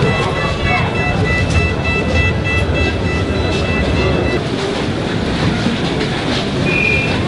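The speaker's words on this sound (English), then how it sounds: "we're gonna jump on the metro, and it's like the oldest metro in the Middle East and North Africa" A Cairo metro car, on the oldest metro in the Middle East and North Africa, rumbles steadily along its rails with constant loud interior roar, faint wheel clatter and thin tonal whines, while people talk indistinctly under the noise.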